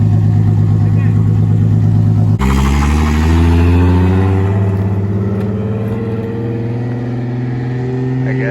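A car engine, in a setting that involves a BMW F30 and a 2JZ-powered S13 drift car, hums at steady revs and then jumps into a louder surge that slowly falls away. It stays close and continuous, with a voice talking over it.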